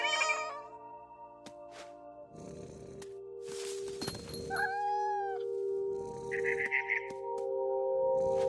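A cat meows in the video game What Remains of Edith Finch, several short mewing cries over soft game ambience with low hums, scattered thuds and a bird's chirp, no voices.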